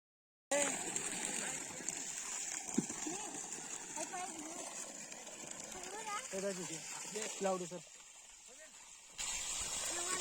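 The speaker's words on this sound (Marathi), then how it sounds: "आपला तीन एच पीचा सोलर पंप किती छान रित्याने पाणी टाकत" Water pours and splashes in a steady rush from a 3 HP solar pump on a farm while someone talks over it throughout, then the flow briefly cuts out.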